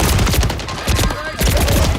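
Rapid gunfire in the video game Warzone crackles in dense, loud bursts of overlapping shots with barely a pause, filling the whole stretch up close.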